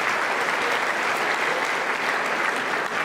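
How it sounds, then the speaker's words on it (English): A crowd at a 2019 Fulton high school graduation ceremony applauds the graduates' families, loud continuous clapping filling the space for several seconds without pause. "Let's give a round of applause to all of our families."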